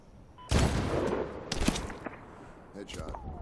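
A single sharp sniper rifle shot cracks out loudly in Medal of Honor, followed by a ringing echo and a second fainter report, with a radio voice talking over the sparse battlefield ambience.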